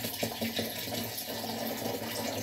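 Tap water pouring steadily and close by, filling a container with two gallons of water as the base of a strawberry mead must with nine pounds of honey; continuous splashing with no voices.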